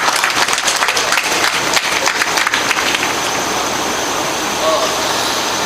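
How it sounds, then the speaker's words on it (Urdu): Audience at an Urdu mushaira in Charthawal claps to welcome a guest, a busy, loud burst of applause that thins out and fades into a softer hum of room noise toward the end. "تالیوں سے استقبال کیجیے محترم۔"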